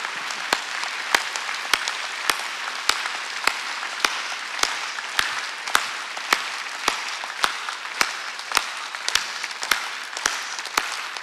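Congregation applause at a Korean church's Sunday worship service: steady, fairly close clapping with sharp, evenly spaced accents that carries on throughout, with no talking.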